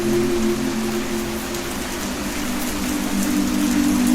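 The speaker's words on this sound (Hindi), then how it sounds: "तब अचानक से बारिश होने लगी।" Steady rain pours down continuously in an animated cartoon, a dense even hiss of drops on surfaces with no voices, holding at constant loudness throughout.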